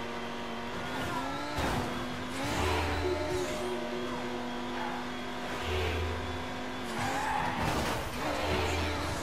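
Midnight Club Los Angeles race car engine revving hard with shifting pitch, tires squealing as it brakes and spins out, repeated roaring surges and skids, loud and close with no talk.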